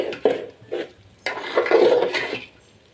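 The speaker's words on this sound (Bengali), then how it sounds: "চালটা এখন নেড়ে চেড়ে কি ভেজে নিচ্ছি" Rice being stirred and fried with onion in a pot for pulao, giving intermittent scraping and clinking of a utensil against the pot in short bursts, close and fairly clear with no talk.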